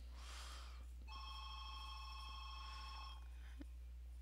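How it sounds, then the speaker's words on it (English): A house phone rings in bursts, its electronic tone steady and fairly clear for about two seconds before stopping, set against a quiet room with a low hum. "So just ignore the phone ringing."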